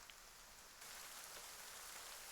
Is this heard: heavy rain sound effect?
yes